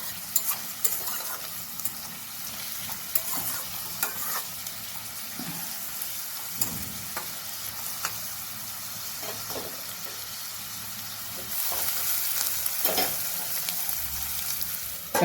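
Onions fry with a pinch of salt in a pan for methi chicken curry, giving a steady, close sizzle with occasional stirring scrapes that grows louder toward the end.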